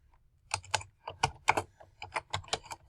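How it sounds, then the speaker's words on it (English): Bursts of keystrokes on a computer keyboard as a web search is typed, clicking in quick irregular clusters, close and clear with nothing else in the background. "I'm going to go to Google and I'm going to type in"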